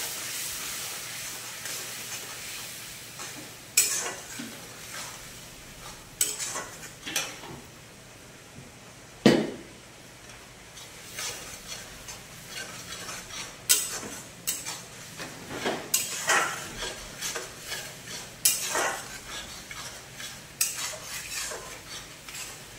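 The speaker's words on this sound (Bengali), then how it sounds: "এবার মশলাটাকে ভালো করে কষিয়ে নেব।" Spice paste of salt, chili, turmeric, coriander and cumin powder stir-fried in oil in a pan, a soft steady sizzle broken by repeated sharp scrapes and clinks of a metal spatula against the pan.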